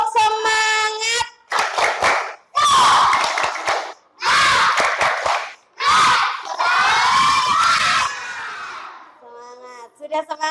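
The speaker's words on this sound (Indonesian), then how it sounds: "Kita melakukan tepuk semangat." A classroom of schoolchildren performs a 'tepuk semangat' clapping chant: loud, close bursts of shouted group chanting with claps, broken by short pauses, and an adult voice speaks briefly at the end.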